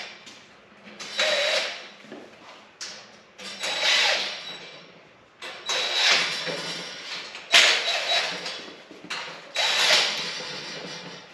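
Repeated bursts of a whirring, ratcheting driver tighten bolts on a metal Boraam Valencia baker's rack, each run lasting a second or so with short pauses between.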